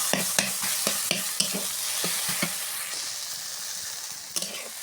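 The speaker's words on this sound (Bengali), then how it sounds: "এভাবে নাড়তে হবে।" Spatula scraping and stirring kochu (taro) flower curry frying in a pan, with a steady sizzle underneath and a dozen or so sharp clacks of the utensil against the pan, close and fairly loud, no voices.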